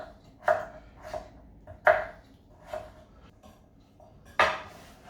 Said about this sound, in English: So let's roughly chop these things.